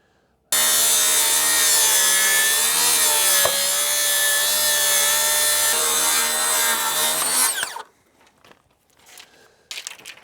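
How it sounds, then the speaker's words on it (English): A power saw cutting a bevel along the top of a wooden porch purlin, one loud continuous whining cut of about seven seconds that winds down, followed by a few faint clattering handling sounds. "I also need to bevel this top"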